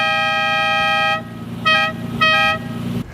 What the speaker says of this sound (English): Another one of the Countach's most ridiculous characteristics is its dinky little horn.